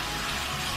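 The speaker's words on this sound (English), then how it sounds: "Get some water running." Water running steadily from a bathroom tap during a face wash, a continuous close hiss and splash with no talking.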